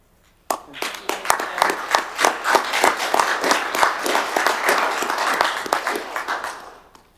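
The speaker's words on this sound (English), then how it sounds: "maybe we could invite our audience to join us and give them a round of applause for that" A room of attendees at a county commission meeting breaks into applause, with dense, steady clapping that starts abruptly and holds strong for several seconds before thinning out at the end.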